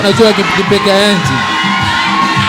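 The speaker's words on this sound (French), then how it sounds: "Et sous les acclamations de l'assemblée." Wedding guests cheering and whooping at a ceremony, loud crowd voices and shouts close by, with people talking and calling out throughout.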